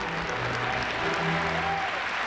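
A large arena crowd gives loud, continuous applause after a figure skating pairs performance, a broad steady roar of clapping with a faint low murmur beneath.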